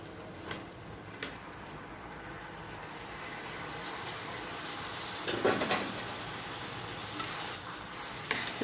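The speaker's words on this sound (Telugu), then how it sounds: "ఈ కొబ్బరి వేసేసుకుని ఈ బెల్లం అంతా కూడా కొబ్బరికి పట్టేటట్టుగా కలపండి" Grated coconut is stirred into melted jaggery in a pan, with a constant low sizzle and scattered scraping strokes of the spoon, louder bursts near the middle and end.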